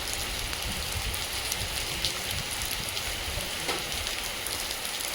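Steady, dense rain falls outdoors, a constant hissing patter that stays even and fairly loud throughout, with no voices over it.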